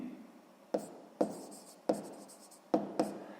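A pen writes out a sixth-grade math solution in a quiet room, with five distinct scratchy strokes that start sharply and fade quickly.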